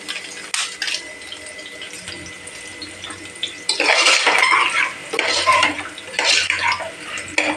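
Chicken sautés in a pan for chicken biryani, stirred with a metal spoon, giving close scraping and clinking with a hissing sizzle that swells in the second half, without talk.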